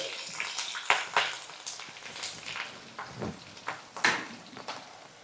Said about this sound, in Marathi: अशी फोडणी बघा मस्त अशी खमंग तयार झाली आहे